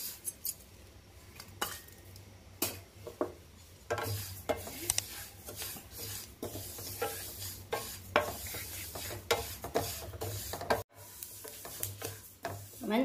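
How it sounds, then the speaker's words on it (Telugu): Sesame seeds and salt are added and stirred with a metal spoon for chimili sesame-jaggery balls. Faint, irregular scrapes and clinks of utensil on the pan come with a soft, grainy rustle. "ఉప్పు నువ్వులు వేస్తున్నానండి"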